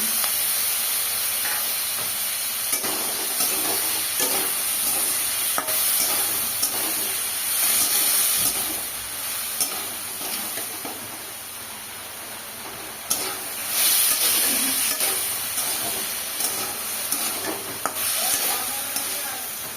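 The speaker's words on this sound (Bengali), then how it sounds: "মশলাটা আলুর সাথে ভালো করে কষানো হয়ে গেছে।" Potatoes fry in a pan with tomato, cumin paste and ginger paste, giving a steady hiss and sizzle with occasional scraping stirs, heard alone throughout.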